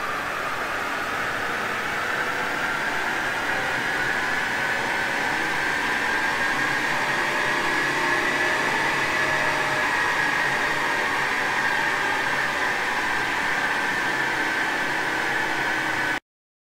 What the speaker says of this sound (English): This is the dyno before run.